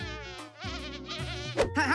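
Cartoon fly buzzing, a wavering, whiny drone that bends in pitch and swells near the end, up close and loud with no talking.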